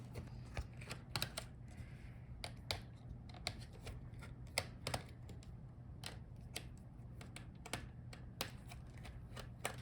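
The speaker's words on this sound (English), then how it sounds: "unscrew all the screws" Small screws being undone on the motherboard of an Asus TUF Gaming FX505GT laptop, a close run of quick, irregular clicks and ticks from the screwdriver, each crisp and brief, with no talk.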